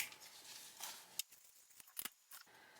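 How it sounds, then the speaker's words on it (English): Scissors trimming the fabric lining of a sewing project, a few faint crisp snips spaced irregularly, close but quiet, with no one talking. "I'm just going to do a little bit of trimming there for the lining"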